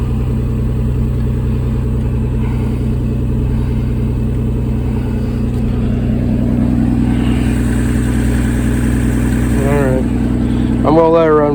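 A 2004 Nissan Maxima with a stall and fast-idle problem idles steadily up close, a continuous engine drone that builds slightly toward the end, with brief voice-like sounds near the close.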